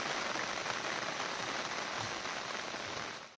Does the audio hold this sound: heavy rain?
yes